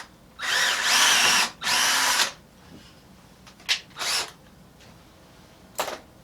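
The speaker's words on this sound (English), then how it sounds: "I just drilled a 3/16 hole with a normal wood bit" A power drill fitted with a wood bit bores a 3/16 hole, two loud whirring bursts of about a second each, followed by shorter faint spins and clicks.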